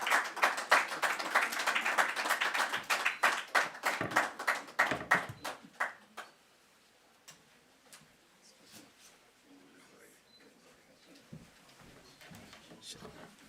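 Audience applause at a formal convening, a dense burst of clapping that thins into scattered claps and fades to a few isolated taps and quiet room noise.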